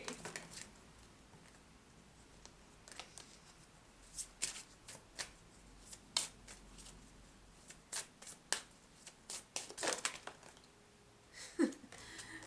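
Tarot cards being shuffled by hand during a card reading, a series of quick riffling bursts and soft slaps that come in uneven clusters, close and fairly quiet.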